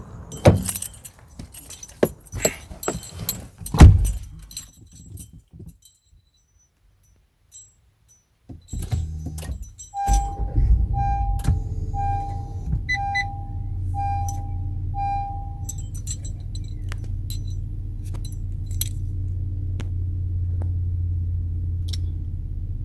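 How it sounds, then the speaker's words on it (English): Keys jangle and a car door opens and shuts at a Honda Pilot in the dark, then after a brief hush the engine starts and settles into a steady idle, with a few soft chimes early on. "I'm gonna walk to the car and then start the car right now."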